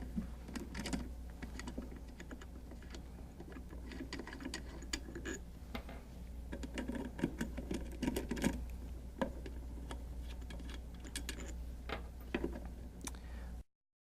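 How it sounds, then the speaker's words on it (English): Small screws are worked loose from a water softener control valve assembly to reach the screen and injector, giving a run of close, quiet ticking and clicking taps over a steady low hum. "The next thing we will do is remove the two screws to gain access to the screen and injector assembly."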